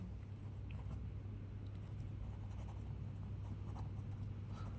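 Pen writing on paper during handwriting practice, a steady soft scratching texture heard close up over a constant low hum, with no talking.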